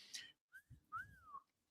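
A person whistles in surprise, a soft tone that rises then bends and falls, heard close and quiet twice in quick succession, with a brief hiss before it and no talking.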